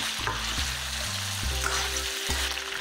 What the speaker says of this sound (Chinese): 放入桂皮、八角、香叶、花椒、葱姜蒜、新疆鲜辣子，接着翻炒均匀